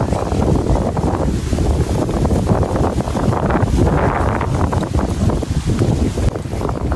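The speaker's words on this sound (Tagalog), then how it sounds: "Lakas ng hangin." Strong wind roars steadily against the microphone, a constant heavy buffeting with no pauses.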